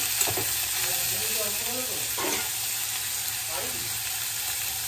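Fried rice ingredients stirred in a frying pan with a light sizzle, with a few scraping strokes of the spatula at intervals over steady frying noise and no talk.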